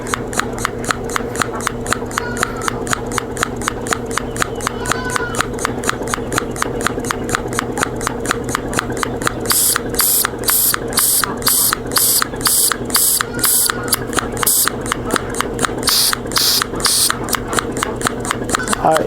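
A vacuum pump for a home-built milking system pulses in a steady, rapid rhythm with an underlying hum, continuing without pause and growing harsher partway through.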